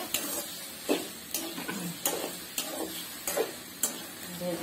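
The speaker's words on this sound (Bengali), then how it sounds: "পেঁয়াজ কুচি টমেটো কুচি ভালো করে ভেজে" Chopped onion and tomato fry in a pan while a utensil stirs them in regular strokes about once a second. Each stroke makes a sharp scrape over a low, continuous sizzle, heard close up.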